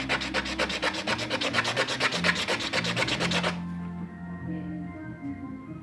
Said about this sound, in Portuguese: Encontrei uma lixa de unha. Vocês vão e dão uma lixada,